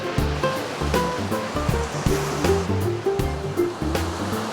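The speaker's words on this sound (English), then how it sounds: "And the surf is right there." Ocean surf breaks along the long beach of the Gippsland Lakes coast, a continuous rushing wash with repeated swells, close and fairly loud.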